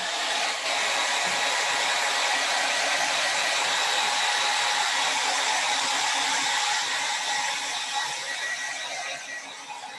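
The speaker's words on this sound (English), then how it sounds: "So I'm going to hit this with the blow dryer." A hair dryer drying acrylic paint blows steadily and loudly at close range for about ten seconds, a continuous whooshing roar with no voices.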